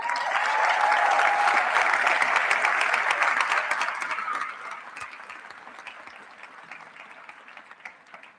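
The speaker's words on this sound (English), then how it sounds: "please join me in giving a round of applause for your village here tonight." Audience applause at a middle school eighth-grade graduation ceremony, a loud dense crowd of clapping that holds steady for about four seconds, then thins into scattered, quieter claps as it dies away.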